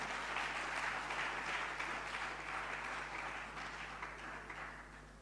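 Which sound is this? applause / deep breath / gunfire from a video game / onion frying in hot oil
applause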